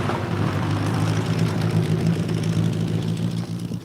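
A Toyota Supra at a classic car show gives off a steady, low engine rumble, like idling or slow running, close by and continuous with no talk.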